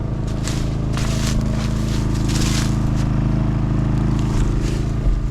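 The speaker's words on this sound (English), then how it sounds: "sorry about the generator noise" A generator runs steadily at a campsite with a parked camper, a loud constant low hum and drone with faint crackling on top, with no break throughout.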